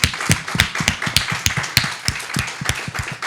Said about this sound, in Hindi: आइए हम परमेश्वर की महिमा करेंगे, जोर से ताली बजाएं परमेश्वर के लिए।